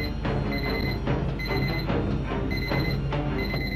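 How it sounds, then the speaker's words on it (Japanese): A timer alarm rings in the horror video game 2Dark, a loud repeating electronic beeping pattern in rapid bursts that continues without pause and with no one speaking. "おっと、タイマーが鳴った。"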